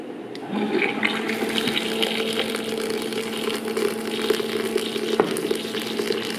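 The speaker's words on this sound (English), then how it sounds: "now hot water." Hot water poured into an instant beef noodle cup, a steady close splashing stream that runs throughout without a break.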